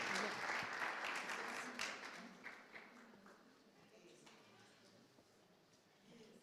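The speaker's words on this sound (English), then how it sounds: "A round of applause for all our winners and congratulations." An audience at a university research competition finals applauds the winners, a dense wash of clapping that starts loud and slowly thins and fades over several seconds.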